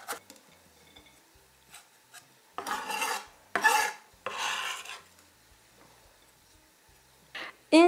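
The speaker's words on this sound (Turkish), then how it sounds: "Soğanları bu şekilde iyice inceltelim." Intermittent knife scraping and chopping on a board as onions are finely chopped, a few longer rasping bursts in the middle and a loud sharp burst at the end, no voices.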